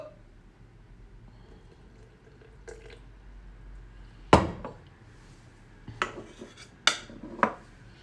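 Sourdough starter stirred in a jar after fresh flour and water are added, heard as scattered sharp clinks and scrapes of a utensil against the container, a louder knock followed by several quicker taps over a quiet background.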